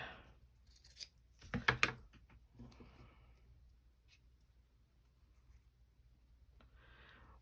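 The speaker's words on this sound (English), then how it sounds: "And here's a piece. I'm going to cut that down a little bit." Scissors snip through a strip of paper, a quick cluster of crisp cuts close by, followed by faint rustling and quiet handling.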